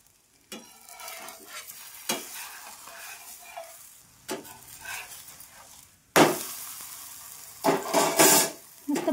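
A pumpkin pancake fries in oil on a pan, with crisp sizzling bursts and spatula scrapes as it is flipped, loudest and hissiest in the later stretch.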